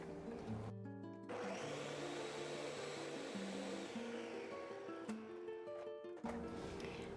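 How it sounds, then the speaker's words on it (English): A blender whirs through onions, serrano peppers, garlic and water, a steady loud motor drone lasting several seconds, with background music playing alongside. "I'm going to blend them before I put my tomatoes in here."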